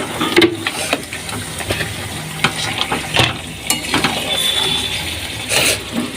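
Marinated chicken dropped into a pan of well-cooked masala for a capsicum chicken dish, frying over high flame with a steady close sizzle and intermittent stirring clatter throughout.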